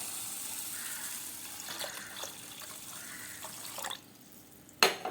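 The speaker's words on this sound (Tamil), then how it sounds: "நல்லா இது மூழ்கிற அளவுக்கு நல்லா தண்ணி விட்டுக்கிறேன்" Water pours and splashes from a tap into a container to soak rice for tomato dosa, with a running gurgle and a sharp clink near the end.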